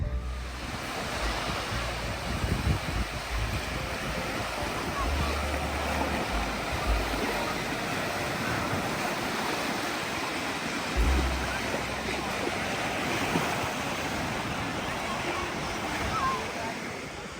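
Waves wash against the water's edge on a Baltic beach at Krynica Morska in northern Poland, a continuous broad surf wash mixed with wind buffeting the microphone, steady and close throughout.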